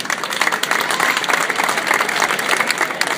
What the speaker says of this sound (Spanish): Aplauso también me gustaría para ellos.